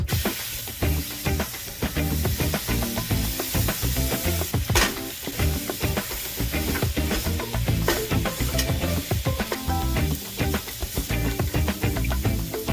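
Bacon, sausage and pepperoni fry on a flat-top griddle with steady loud sizzling and hissing, broken by frequent scraping and stirring of a spatula, close and continuous with no talk.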